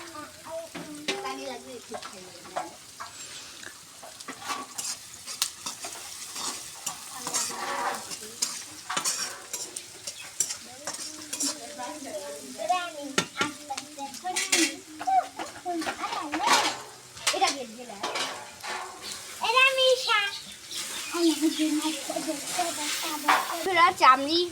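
A vegetable mix of taro, pointed gourd, potato and Malabar spinach stems is stirred as it fries in a pan, with intermittent scraping and a soft sizzle under a person talking throughout.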